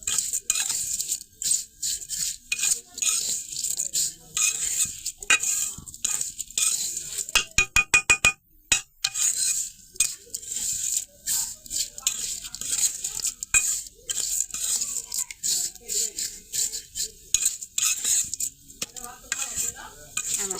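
Lachha vermicelli frying with sugar in a pan, a utensil scraping and stirring in quick, uneven strokes over a soft sizzle, with a short burst of rapid metallic rattling partway through.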